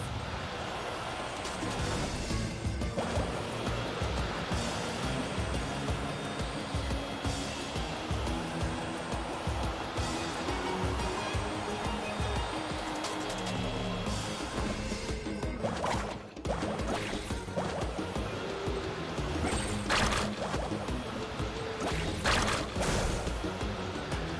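Continuous broadband rush of water as a character carves across waves while surfing in Genshin Impact, steady and loud throughout with bursts of splashing and game music mixed underneath.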